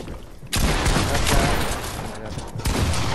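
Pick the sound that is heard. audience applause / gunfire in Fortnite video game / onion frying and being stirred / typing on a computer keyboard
gunfire in Fortnite video game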